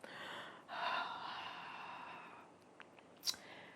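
A single long, breathy exhale after a sharp intake, soft and close to the mic, with a brief sniff near the end and no talking.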